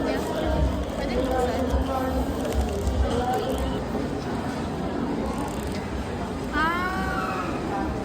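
A cat meows at a Sweet 16 birthday gathering in Tanay, Rizal, with a few short meows rising over constant background chatter and a clearer, louder meow near the end.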